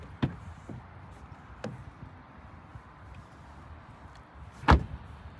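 Door of a 2023 Volvo XC40 Recharge Twin opening and shutting, a few faint clicks and thuds with one sharper solid close near the end, heard alone against quiet background.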